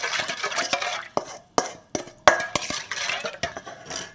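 Dry yeast and a pinch of salt stirred together in a bowl for balloon bread dough, with close scraping and sharp clinks of a utensil against the bowl in uneven strokes, no speech.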